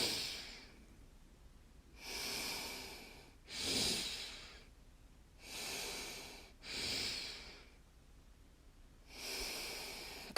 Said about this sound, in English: Inhale, big inhale. Exhale, swoop.